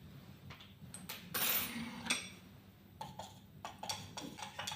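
A spoon clinks against the glass of a beaker as copper oxide powder is added to acid, making sharp, irregular metallic taps and scrapes up close over a quiet background, with no talking.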